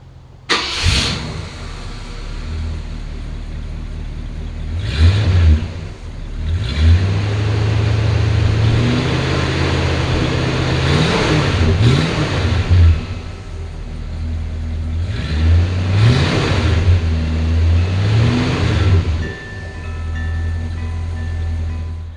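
A 1966 Ford Galaxie 500 convertible engine idles loudly up close, then revs up and settles back several times in surges before dropping to a steady idle, with no speech.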